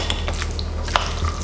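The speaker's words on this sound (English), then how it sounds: "And you'll just give everything a quick mix." A spoon gives potato salad a quick mix, with soft scraping and a few light clinks against the bowl heard close up over a low steady hum.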